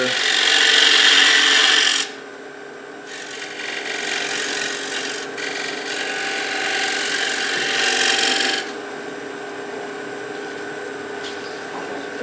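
A spindle gouge cuts a wide-rimmed wooden bowl spinning on a wood lathe. A loud, bright scraping hiss runs for about two seconds, then quieter intermittent rubbing cuts continue under a steady motor hum.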